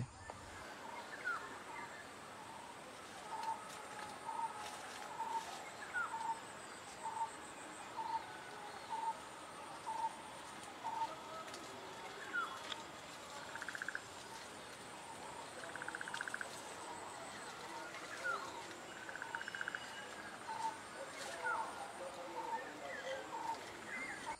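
Garden birds repeat short, high call notes at a regular pace throughout, faint against a soft outdoor background with insects chirring.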